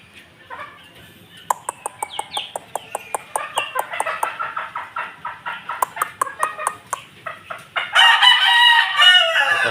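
Chickens, including a hen, cluck and chatter in rhythmic bursts nearby, with a rooster crowing loudly near the end.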